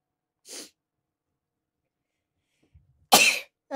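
A single sharp, loud sneeze bursts out near the end from a live streamer with rhinitis, preceded by a faint short breath or sniff and otherwise quiet.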